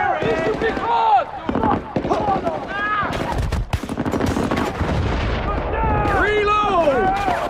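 Battlefield: Bad Company combat with sharp gunshots and heavy explosions going off back to back, loud and close, mixed with shouting voices throughout.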